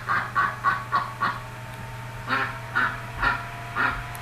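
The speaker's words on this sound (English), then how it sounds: "Yes, it's the sound of the duck." A duck quacks in two quick series of loud, clipped calls, about five in the first run and four in the second, with a short pause between and no voices.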